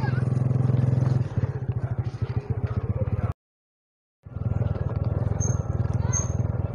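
A motorcycle engine drones steadily on a ride through rural Tanay, with a rough, pulsing putter that cuts out briefly before rumbling back up, heard close and loud along with road and wind noise.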